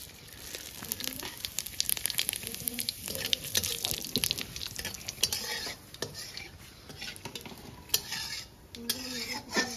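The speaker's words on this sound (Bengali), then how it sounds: "জিরে, তেজপাতা আর শুকনো লঙ্কা ফোড়নে দিয়ে দিচ্ছি" Cumin, bay leaf and dried chilli tempering in hot oil, a fine crackling sizzle with sharp spitting pops and a few clinks of a utensil against the pan, fairly faint and without talk.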